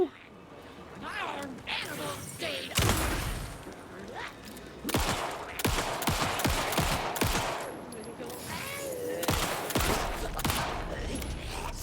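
Gunfire in the Alan Wake 2 video game, several bursts of sharp shots and rapid volleys amid dense in-game ambience and effects, fairly loud and close, with a voice speaking over it at times.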